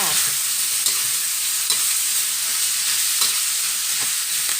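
Green sweet peppers stir-fry with pork belly in a hot pan, an even loud sizzle punctuated by regular spatula scrapes every second or so.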